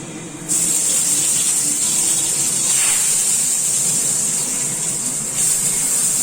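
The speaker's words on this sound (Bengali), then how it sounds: "বেগুনগুলো ফ্রাই করবো।" Eggplant slices frying in hot oil, a loud, steady, bright hiss starting abruptly and holding without break, with a brief dip near the end, no talk.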